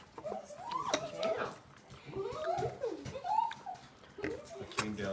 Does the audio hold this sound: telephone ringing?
no